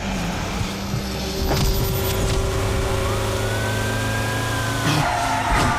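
An ambulance siren wails in the Driver: San Francisco driving game, a sweeping tone blended into a dense roar of engine and traffic noise throughout.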